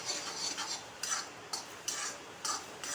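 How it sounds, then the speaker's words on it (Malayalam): A spoon works through rava upma with banana in a pan, giving close scraping, stirring strokes that repeat at a steady, unhurried pace with no talking. "ഇളക്കി കൊടുക്കാം."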